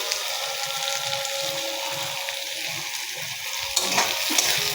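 Green chilies, onion and garlic sizzle and crackle in hot oil in a wok, a steady close frying hiss with a few louder spatters near the end, no voices.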